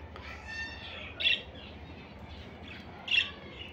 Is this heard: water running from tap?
no